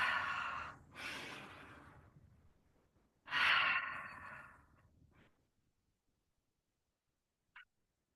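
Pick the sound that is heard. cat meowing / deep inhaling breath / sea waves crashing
deep inhaling breath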